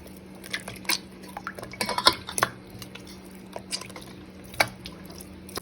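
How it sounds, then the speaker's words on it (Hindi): Maida dough being washed by hand in a large pot of water, heard as soft sloshes, drips and intermittent knocks and clinks against the metal pot over a steady low hum. "अब मैं इस डो को इसमें धोती जाऊंगी।"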